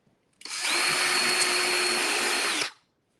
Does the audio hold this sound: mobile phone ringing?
no